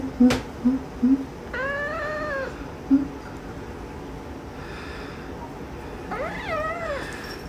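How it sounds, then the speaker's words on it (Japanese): A cat meows twice, each a distinct drawn-out call with a rising and falling pitch, heard close over faint background hiss, with a few soft knocks and thumps early on. "にゃんこです。"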